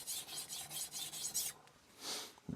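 A Moritaka 210mm Aogami Super gyuto knife is rubbed against a 3000-grit HK Knife Works vitrified diamond whetstone in rhythmic, close, rasping strokes, about six quick passes followed by a pause and a single longer stroke.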